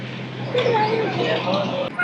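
Andhra Pradesh Pallevelugu bus travelling the rough hill road between Sileru and Narsipatnam, a steady engine hum and rattling cabin noise under continuous talking close by.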